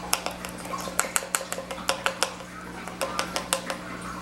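Flour and paprika mixed in a bowl for deep-fried shrimp breading, with a quick, steady run of clinking taps of utensil on bowl that comes in uneven bursts over a low constant hum.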